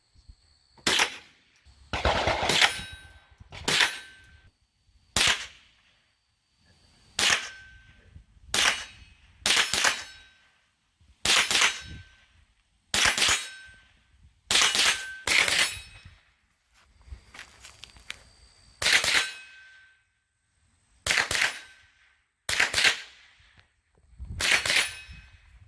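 Guns fired at a shooting range: a long series of sharp, loud gunshots, some single and some in quick pairs or bursts, spaced by short pauses, with no talking.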